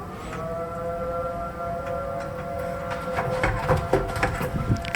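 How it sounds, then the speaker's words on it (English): A civil defense siren wails outdoors during a nighttime blizzard, a steady sustained tone under heavy gusting wind that grows rougher and louder toward the end. "Hear the siren."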